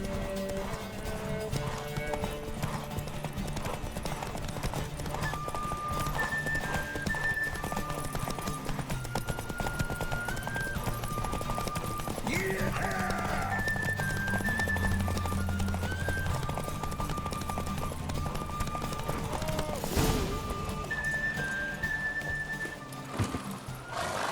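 Hooves clip-clop in a quick galloping rhythm with an occasional horse whinny, set against a steady musical backdrop, from The Witcher 3: Wild Hunt.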